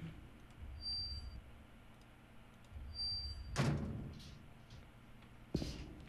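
An elevator door in The Town of Light slides shut with a heavy thunk, followed about two seconds later by a sharp latching knock, over a low room hum.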